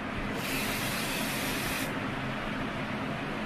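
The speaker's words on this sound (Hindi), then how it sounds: "ये होल्ड स्प्रे, ये ऊपर मैंने होल्ड स्प्रे मारा" Hold hairspray from an aerosol can sprays onto styled hair in one steady hiss of about a second and a half, close and loud, set against a constant background rush.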